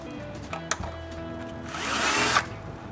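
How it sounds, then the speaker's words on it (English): A power drill bores pilot holes in wooden window molding for a lock keeper inside a workshop, with short bursts and a rising whirring drill run near the end. "Now I can figure out the placement of the keeper on the molding and drill its pallet holes."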